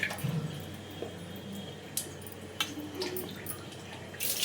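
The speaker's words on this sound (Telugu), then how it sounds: "ఇప్పుడు వాటర్ ఇలా మంచిగా మరుగుతూ ఉండాలి." Water boiling in a pot on a stove, ready for rice flour dough for Telangana festival snacks, gives a faint, steady bubbling with scattered soft pops and drips.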